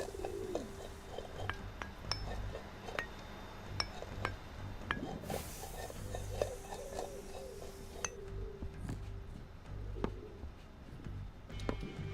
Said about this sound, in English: Dang birds.